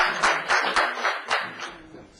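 Brief, uneven applause from a small group in a city council meeting chamber, a handful of distinct hand claps over about two seconds.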